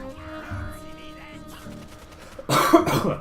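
A close, harsh cough bursts out near the end after a stretch of quiet background sounds.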